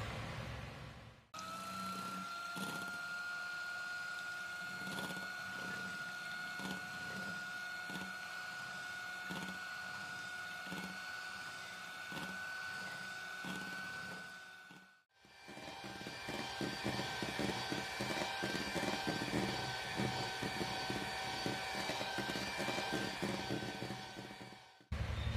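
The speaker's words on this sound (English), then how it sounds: "Right now, yung gagamitin ko is hand mixer." An electric hand mixer beats keto chocolate batter for a flourless cake with a steady, droning motor whine. It pauses briefly near the start and again midway, then resumes with a louder, rougher tone.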